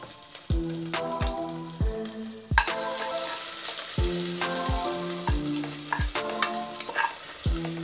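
Cinnamon, cloves, mace, cardamom and crushed ginger and garlic sauté in ghee for Kerala-style ghee rice, a steady close sizzle with stirring strokes, partly masked by plucked melodic background music; no one speaks.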